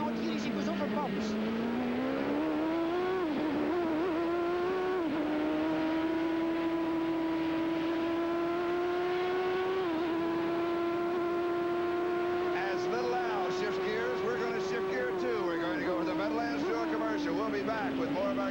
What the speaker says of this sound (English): Now listen to the engine note here as he goes over bumps